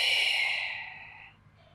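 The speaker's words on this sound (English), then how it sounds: "And exhale." A single long, breathy exhale during a beginner Pilates core exercise, close and soft, fading out over about a second and a half with no talking.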